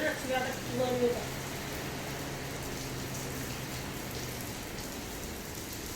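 Steady rain falls during a storm in Nainital, a dense even hiss throughout with a few brief voices and noises near the start.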